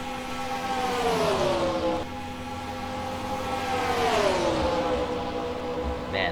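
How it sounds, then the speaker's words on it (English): MG Cup race cars roar around the Atlanta racetrack, engines howling and sweeping up and down in pitch as cars pass close by in quick succession, loud and continuous. "listen to these cars, man. These guys are absolutely flying around this racetrack."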